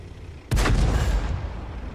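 A single loud cannon blast from a tier 9 Patton tank firing a high-explosive shell in World of Tanks, with a sharp boom at onset and a rumbling tail that fades slowly.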